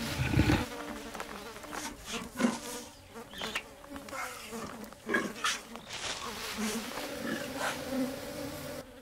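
Bees drawn to a flowering sausage tree in the African wild buzz in a dense, steady drone, with insect hum swelling and fading close by.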